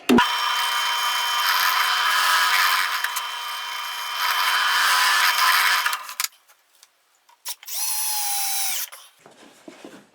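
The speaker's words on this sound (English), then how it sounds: "I'm going to countersink for some screws" A power drill bores countersink holes for screws in wood for a step stool. It makes a loud, steady whine for about six seconds, then goes quiet, and a second shorter run follows before it stops.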